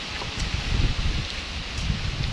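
Strong wind blows outdoors, a steady rushing buffet with low gusty rumbles against the microphone, continuous and fairly close throughout.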